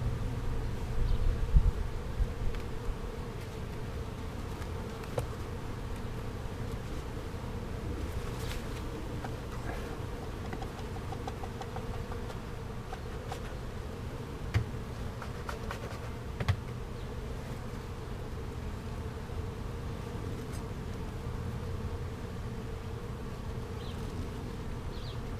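A busy crowd of honeybees drones steadily around an open hive during an inspection, their dense buzz continuous and close throughout with a few brief knocks.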